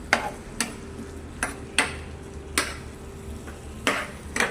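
Onions frying in oil in a home kitchen pan, with a steady low sizzle under sharp clattering stirs of a utensil against the pan at irregular intervals, close and moderately loud.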